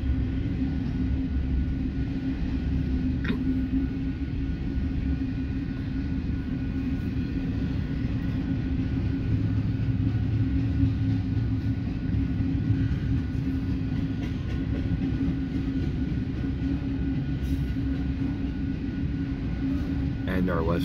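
A double-stack freight train on the Transcon near Fremont, Nebraska rumbles past steadily as a low, continuous drone with a faint hum, near and unbroken for the whole stretch, with no talk.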